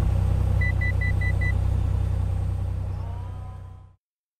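A light aircraft engine with the throttle cut back on final approach to runway 20, a steady low droning hum with a short series of beeps before the sound trails off and stops abruptly.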